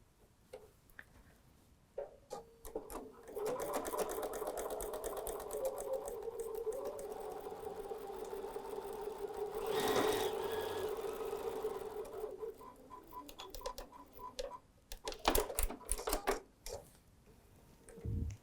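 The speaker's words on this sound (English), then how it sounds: "Let's go sew on the line." Sewing machine stitching a table runner along a marked line, with a fast, even mechanical whir and ticking that runs for several seconds, briefly pauses, then restarts, close and fairly quiet with small clicks at the ends.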